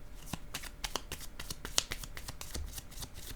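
Tarot cards are shuffled close up for a reading, giving a quick run of crisp, evenly spaced slaps and riffles with no voice over them.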